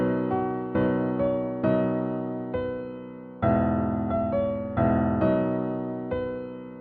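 A simple melody in a major key played on a piano-like instrument, a sequence of clear struck notes with decaying tails, steady and moderately loud with no voices.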